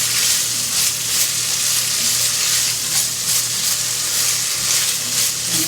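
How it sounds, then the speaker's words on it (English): Potatoes sweating and sizzling in a pot of New England clam chowder, a steady broadband frying hiss with soft crackles throughout, close and constant with no talking. "I'm going to also sweat the potatoes here for a while."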